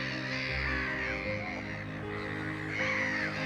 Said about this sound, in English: I'm listening to the birds singing,